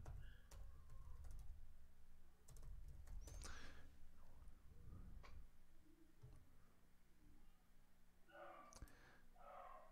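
Keys on a computer keyboard are typed in scattered bursts of quiet, irregular clicks, over faint room noise with brief soft sounds in between.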